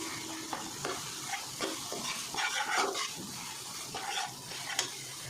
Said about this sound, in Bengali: মশলাটা অলরেডি ভাজা হয়ে গেছে